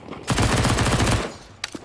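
An MP9 submachine gun fires a single fast, rattling burst of about a dozen shots in Counter-Strike 2, loud and close, followed by a few faint clicks.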